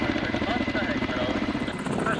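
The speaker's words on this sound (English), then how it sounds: "With surgical precision, the Comov KA-32 hoists a giant power pole." A Kamov Ka-32 helicopter hovers while hoisting a giant power pole, its steady rotor and engine roar loud and continuous throughout, with people talking over it.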